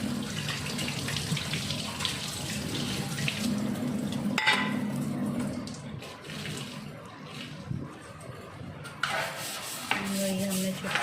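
Water runs from a tap into a kitchen sink as it is scrubbed with a small brush, a steady splashing stream with scraping and clatter, close and fairly loud.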